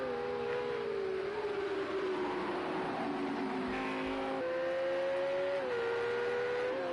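Race cars including a Ferrari, a Lamborghini and GTRs lap Hockenheim in Project CARS 2, one engine's whine holding a steady high pitch that dips and climbs with shifts over a continuous loud rumble of the pack.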